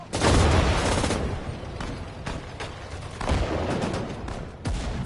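Gunfire rattles in Sudden Strike 4, dense overlapping volleys and booming shots in loud bursts that ebb and surge over several seconds, no talk.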